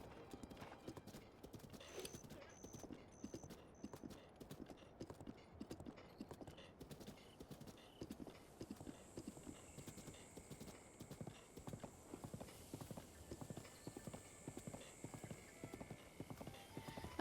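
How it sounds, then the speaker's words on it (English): Horse hooves clip-clopping at a steady rhythmic trot in Breath of the Wild, quiet and continuous throughout, with occasional game chimes and tones over the top. "Got a horse."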